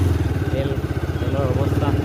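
A motorcycle engine idles with an even, throbbing pulse at a fuel station in Sivasagar, Assam, close by and steady, while a person talks over it.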